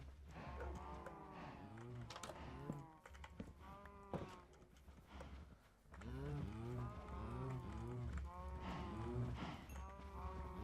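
Cattle in the game Minecraft moo repeatedly with harmonic, drawn-out calls, several overlapping in a steady series across the whole stretch, fairly close and clear over a low constant hum.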